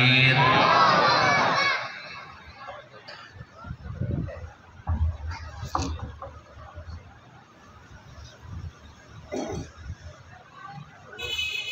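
A large crowd at a religious gathering bursts into a loud collective shout for about two seconds, then fades to scattered murmurs and distant voices.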